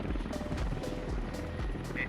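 A helicopter's engine and rotors in the video game Squad, a steady mechanical drone with a rhythmic rotor thump repeating about twice a second, fairly quiet and continuous.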